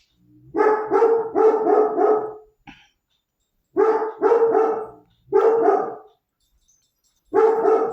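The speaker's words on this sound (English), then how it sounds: "My dogs are barking." Domestic dogs barking indoors in several close, loud bursts of rapid barks separated by short pauses, with no talking.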